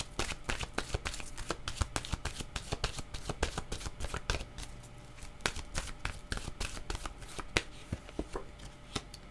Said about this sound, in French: je vais demander une autre carte de mon oracle de l'âme intuitive